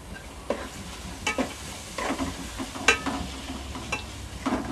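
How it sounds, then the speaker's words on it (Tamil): Tomatoes and green chillies sauté in a pan for a mushroom biryani, with a low sizzle under several distinct spatula scrapes and taps, close up with no voices. "தக்காளியும் பச்சை மிளகாவும் இது நல்லா வதங்கணுன்றதுக்காக நம்ம சாப்பாட்டுத்துக்கும் தக்காளிக்கும் சேர்த்து உப்பு சேர்த்துக்கலாம்."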